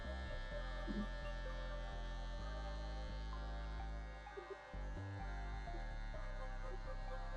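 Electric hair clipper with the zero guard fully closed, trimming close at the base during a fade haircut, a steady close buzzing hum that dips briefly near the end before resuming.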